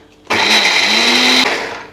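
A kitchen mixer grinder whirs loudly for about a second as it grinds peanut chutney with water into a paste, starting abruptly and cutting off into a brief fading spin-down, heard close and alone.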